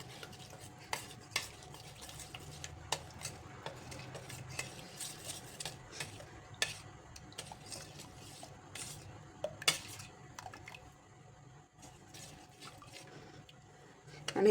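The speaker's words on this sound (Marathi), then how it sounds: "आणि हळद मिक्स करून घ्यायचे" A spoon stirs turmeric and red chilli powder into raw mango pickle in a pot, soft scraping and clinking taps scattered across a quiet background, growing a little louder at the very end.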